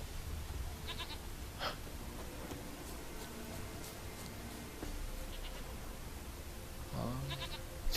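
A goat in The Witcher 3: Wild Hunt bleats a few times over a steady hiss of background noise, with short wavering cries spread apart and one lower bleat near the end.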